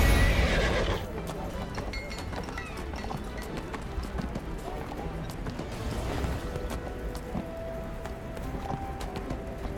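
A flaming armored horse mount in the video game Neverwinter neighs and whinnies over steady clip-clop hoofbeats, loud and close, with a continuous ambient background and possible faint talk.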